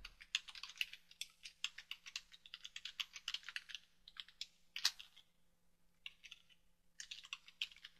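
Quiet rapid computer keyboard typing, close and clicky, in uneven bursts with brief pauses between runs of keystrokes, heard alone without talk.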